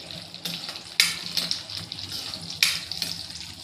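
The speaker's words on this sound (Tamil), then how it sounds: "நெய் சூடானது இந்த முந்திரி திராட்சை எல்லாம் ஊற்றி வறுத்து" Cashews and raisins frying in hot ghee in a pan, giving a soft, steady sizzle with a few brief louder crackling bursts, close and fairly quiet, with no talking.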